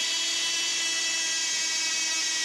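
A continuous high-pitched whine of a drill running steadily through PVC board, loud and close, with no breaks and no voices.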